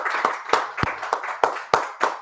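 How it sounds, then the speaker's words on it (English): Hands clap as a class closes out, about eight sharp, close claps at an uneven beat over a couple of seconds, with a murmur of other people underneath. "Clap it up."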